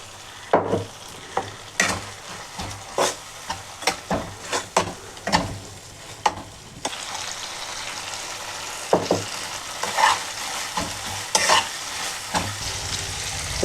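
Tomato masala with cashews and green chillies frying in a pan for chicken do pyaza, with a steady sizzle under repeated sharp scrapes and clatters of stirring, louder and busier in the latter half.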